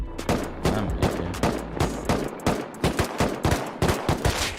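Rapid gunshots from the video game Rust fire in an irregular run of loud, sharp bursts, some clustered in quick pairs and triplets, close and dominant throughout with no talking over them.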